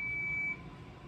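DSC PC2550 alarm keypad giving a single steady high-pitched beep of about half a second, close and clear over low background hum.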